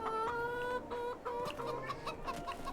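Chickens and a rooster in Farming Simulator 22 cluck in short repeated calls, several birds overlapping close by against a quiet farmyard background.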